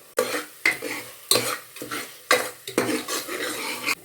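Ingredients sautéing in ghee for ghee rice, a spoon scraping and knocking against the pan in repeated close strokes over a soft sizzle.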